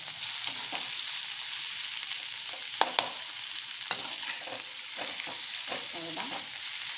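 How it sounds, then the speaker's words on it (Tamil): Vegetables for a simple lunch dish fry in a pan with a steady broadband sizzle while a utensil stirs and turns them, giving soft scraping strokes and a couple of sharp clinks against the pan, with no talk. "இதை இப்போது மெதுவாக பெரட்டி விடுறேன்."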